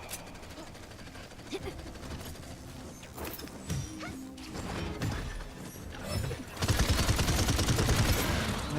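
Gunfire in a Paladins match comes as dense, rapid bursts of shots with clattering impacts. The firing grows heavier and continuous toward the end, and a player talks over parts of it.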